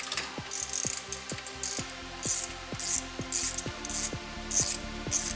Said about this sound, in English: right here there is 2 bolts on the back with a 12mm socket. We need to take these ones off.